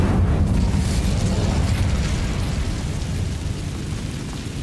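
Incendio fire spell cast in Hogwarts Legacy, a loud, dense roaring burst of flame that starts strong and sustains a steady rumbling whoosh for several seconds with no talk.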